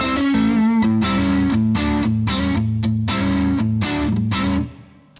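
Electric guitar on the neck pickup through a Diezel Paul amp set for crunch, playing a loud distorted chord riff with rhythmic strummed attacks for several seconds before fading at the end.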